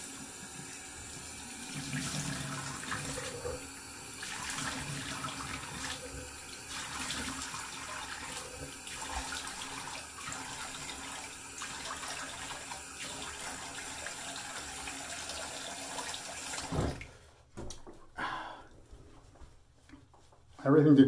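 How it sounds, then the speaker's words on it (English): Tap water runs steadily into a sink for a cool rinse after a shave, a continuous hiss that stops abruptly near the end, followed by brief handling sounds and a voice. "Do a cool water rinse now."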